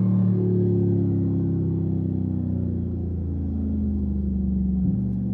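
A Mercedes-AMG G63 with a nine-speed gearbox cruising, its engine a steady low droning rumble heard from inside the cabin, with a brief shift in pitch near the end.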